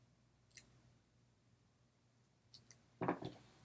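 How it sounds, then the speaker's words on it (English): A few quiet snips of titanium-coated scissors trimming a foam sheet, spaced apart, close by and otherwise near silent. "I cut this one a little too big, so I'm just going to trim it down."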